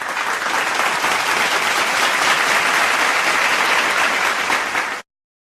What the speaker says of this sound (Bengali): তার জন্য জোরে একটা করতালি।